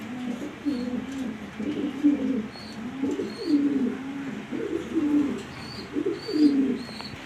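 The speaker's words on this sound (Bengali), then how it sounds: "খুবই আনকমন একটা কবুতর ভালো উন্নত মানের গিরিজাল নর কবুতর" Male Giribaj pigeons cooing in a loft, a series of close, low, rolling coos repeating every second or so, with faint higher chirps in the background.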